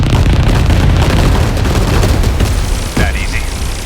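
Multi-rocket explosions in the mecha strategy game 13 Sentinels: Aegis Rim, a dense, loud roar of overlapping blasts and booms that keeps going throughout, with a sharp electronic zap near the end.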